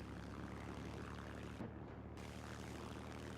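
Steady propeller drone of a miniature Stuka dive bomber flying in Garry's Mod, a continuous buzzing engine hum with a faint pitch waver, held at constant level throughout.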